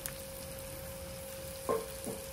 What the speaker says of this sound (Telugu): ఇట్లా కలబెట్టుకుంటూ ఉండాలి కొద్దిగా.